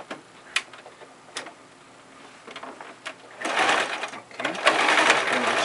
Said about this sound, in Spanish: aquí vamos a coser a media pulgada de distancia porque ya le cortamos una pulgada.